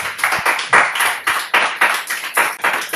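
A church congregation clapping in praise of the Lord, a steady run of loud, close hand claps in an even rhythm, roughly three to four claps per second, with no voices over it.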